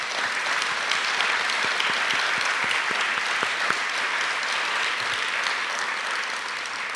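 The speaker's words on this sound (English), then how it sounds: "Let's give them one more round of applause." An audience at an evening event gives a sustained, dense round of applause for the panelists and the keynote speaker, steady and even throughout the whole clip.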